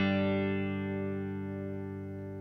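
Electro-Harmonix Superego pedal in auto mode freezing guitar notes into a steady, sustained drone of layered harmonic tones, alone and slowly fading over a few seconds.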